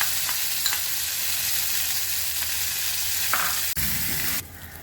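Fried spice paste being sautéed and stirred in a pan, a steady close sizzle with scraping stirs, ending with a clatter and the sizzle dropping lower.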